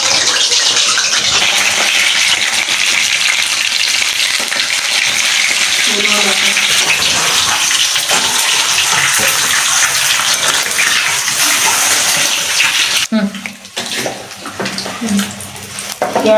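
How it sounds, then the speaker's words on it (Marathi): Eggs frying in hot oil in a pan, a loud continuous sizzle and crackle held close for most of the stretch, thinning out near the end as a voice speaks over it. "तर ही अंडी आहे तर आपल्याला हे तळून घ्यायचे अंडी"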